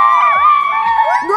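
Crowd cheering and children shouting for a wrestler's entrance at a kids' wrestling face-off, a loud, steady roar with rising whoops and whistles throughout.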